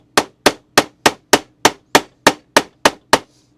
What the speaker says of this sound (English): And plastic hammer time.